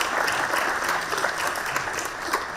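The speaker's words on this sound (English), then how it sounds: "So a round of applause for them, please." A conference audience applauds the technical team, a dense sustained clapping from a large crowd that holds steady throughout without voices on top.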